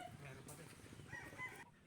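Gamefowl cockerels are lifted from boxes into a scratch pen, crowing and clucking nearby over rustling and handling noise, with voices faintly in the background.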